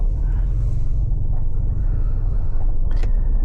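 Cabin of a 2021 Ford Expedition XLT Limited on a test drive, a steady loud low road and engine rumble with constant drone and no pauses.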